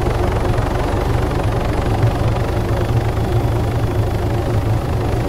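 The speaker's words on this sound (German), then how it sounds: "Naja, der Heli ist bewaffnet." A video game helicopter's rotor thumps steadily with a heavy engine drone, loud and close, continuing without a break and with no one speaking.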